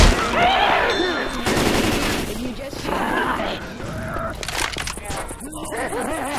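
Gunfire in the video game Left 4 Dead 2 during a Scavenge round at the Parish Park, loud repeated bursts of automatic fire mixed with crashes and game noise, with players talking throughout.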